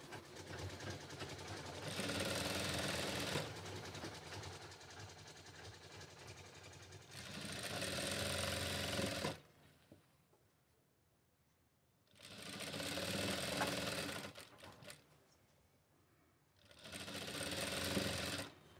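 Sewing machine stitching down a folded fabric strip during a basic tailoring lesson, running in four steady bursts of a few seconds each, separated by quiet pauses.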